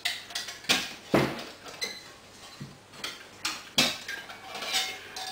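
Metal pots of a backpacking cook kit for canoe camping and trekking being unclipped and handled, giving a run of close, sharp clinks and clatters with quieter rattles between them.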